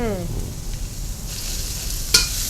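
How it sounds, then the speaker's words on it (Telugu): Garlic, cashews, onion and green chillies fry in oil for crispy loose prawns, a loud, continuous close sizzle with one sharp clatter near the end. "ఇవన్నీ వేసుకొని మంచిగా ఫ్రై చేసుకోవాలి"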